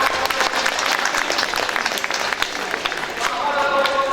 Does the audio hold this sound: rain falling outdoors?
no